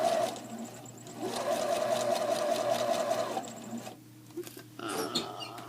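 A sewing machine stitches fabric for baby leg warmers in a steady whirring run of a couple of seconds, then stops, followed by a few light handling rustles.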